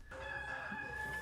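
A rooster crows once, a single sustained, tonal call at moderate distance, heard alone without talk and lasting just over a second.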